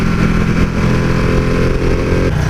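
A Ducati Panigale 1299 superbike engine runs loud and close, a steady deep throbbing note that holds throughout with a brief dip near the end, no voices.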